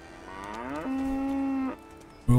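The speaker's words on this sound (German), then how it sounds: "Wo ist die Kuh?" A single cow in Kingdom Come: Deliverance lets out a long, drawn-out moo that swells and then stops, clear and fairly close, followed by a brief sharp sound.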